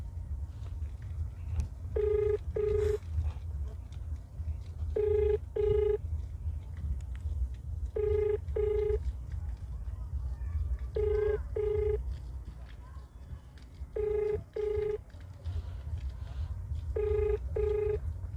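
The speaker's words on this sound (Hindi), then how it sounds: "एक बार डीटीपी विभाग को दोबारा फोन लगवा लेते हैं।" A phone call placed to a government DTP department office rings out in paired electronic bursts, repeating about six times at a steady interval over a low background hum.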